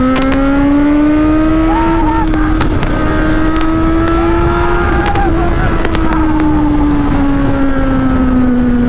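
Kawasaki Z900 motorcycle riding at steady speed, its engine holding a loud continuous drone with slight pitch rises and falls, plus wind noise throughout.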